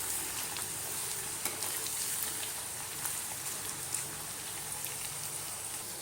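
Garlic, dried red chilies and curry leaves sauté in hot oil for mango pickle, a faint, even sizzle with scattered pops and crackles throughout, no voices.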